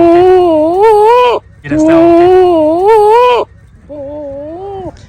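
A goat at a livestock market in Lahore bleats three times, loud and close. Two long, wavering bleats are followed by a shorter one, with faint crowd noise underneath.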